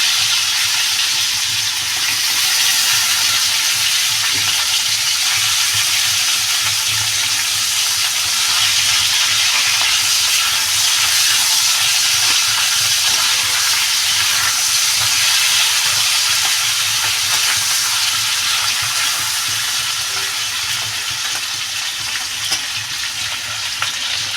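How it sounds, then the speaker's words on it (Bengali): A katla fish head fries in hot oil with a loud, steady, close sizzle and hiss that runs unbroken throughout. "আমার এই মাথাটা ভাজা হয়ে গেছে"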